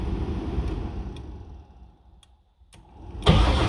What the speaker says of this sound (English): See, I just hold it down and it starts the car, and I can cut it off.